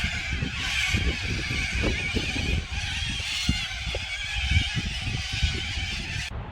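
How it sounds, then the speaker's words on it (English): A large flock of birds in trees at Toowoomba, Australia, squawking and screeching in a dense, continuous chorus with scattered sharper calls, fairly loud and close, with no talk over it. "every now and again they just all take off together and the sky is just full of these birds"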